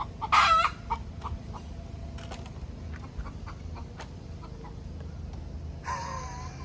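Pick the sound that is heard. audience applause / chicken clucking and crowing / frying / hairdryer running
chicken clucking and crowing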